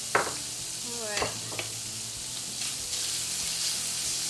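Four strips of bacon sizzle and crackle in a pan as the fat renders, a steady close frying hiss with a few sharp scraping stirs early on.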